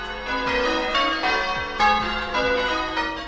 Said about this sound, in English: I want my main sound to be a church bell